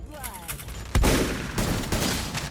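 Shotgun gunfire in the mobile shooter game Free Fire: one heavy, loud blast followed by a couple more booming shots with ringing decay, set against game background noise.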